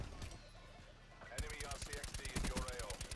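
Rapid automatic gunfire bursts out loud and continuous in a multiplayer first-person shooter, with a Galil rifle and a shotgun in play, while a player talks over the shooting.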